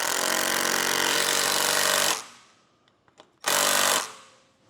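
A power driver sinks lag screws into a trailer bunk board in two loud, close bursts of grinding whir: one long run, a pause with small clicks, then a shorter run that winds down.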